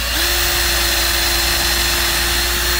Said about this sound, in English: I recommend using a drill with a countersink.